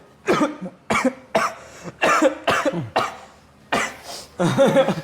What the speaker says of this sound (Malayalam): പെട്ടെന്ന് ചുമച്ചോ.